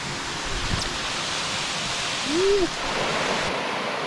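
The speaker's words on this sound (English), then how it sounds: "Alright, so this is the little cascade above." A small waterfall cascade at Tallebudgera Creek Falls in Springbrook, Queensland, pours into a little pool, giving a steady broadband rush of falling water with a brief rustle or whoosh near the middle; no speech.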